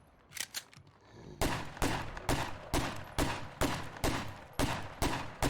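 Pistol shots from a P226 in the zombie survival game State of Decay 2, about nine loud, sharp cracks fired in a steady rhythm after a short pause, close and with no talking.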